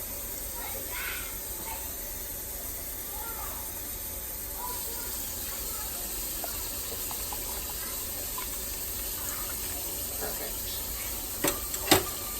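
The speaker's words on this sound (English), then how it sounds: "I'm just going to fill the rest of it with cold water." Cold water pours steadily into a pitcher of peppermint cucumber iced tea, a continuous broadband hiss of filling liquid that runs evenly, close and moderately loud, with a brief clink near the end.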